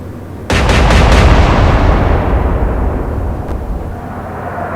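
A rapid string of four heavy cannon blasts from battleship guns in the Atlantic Fleet game, followed by a long, loud rolling rumble that gradually thins out, with no voices.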